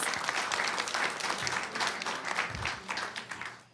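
A round of applause from the audience at a board reception, a bright crackle of many hands clapping at moderate distance, steady throughout with a faint murmur of voices underneath.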